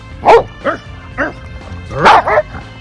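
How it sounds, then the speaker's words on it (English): A dog barks and yips several times up close, loud sharp calls coming in two clusters with short pauses between them. "What a smart dog indeed."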